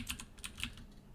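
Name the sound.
typing on a computer keyboard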